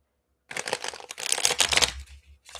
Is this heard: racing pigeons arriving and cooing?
no